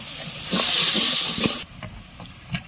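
A splash of water hits onion, ginger, garlic and cumin paste frying in a pan, bursting into a loud steamy hiss that cuts off abruptly, followed by quieter sizzling and a few utensil knocks.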